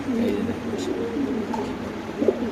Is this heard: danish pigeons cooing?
yes